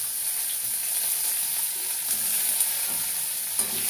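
Onions sauté in oil with a steady close sizzle, with a few soft stirring clinks rising now and then over the hiss.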